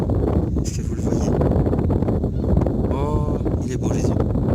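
Wind buffets the microphone outdoors near the water, a steady low rumbling roar that continues throughout under someone speaking.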